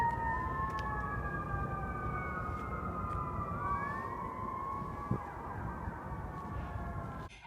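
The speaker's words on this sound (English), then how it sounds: "all you hear from the top of the hill is a siren" A wailing emergency siren sweeps up and down steadily, fairly distant, over a constant low rumble of traffic or wind; no voices.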